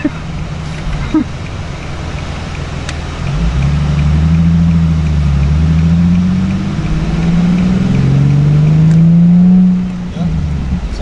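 Modified exhaust on an Infiniti G37 with a cut pipe and clamp gives a deep, steady rumble that swells into a louder sustained drone, then drops back to a low idle near the end, close to the microphone.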